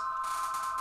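A telephone rings with a steady electronic tone, held continuously, close and clear, with no talking over it.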